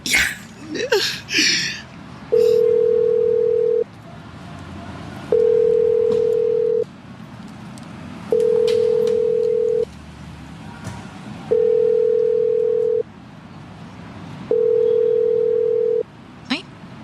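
A phone call's ringback tone sounds in five long, evenly spaced steady beeps, loud and clear after some brief clattering, with a short voice break in the gaps.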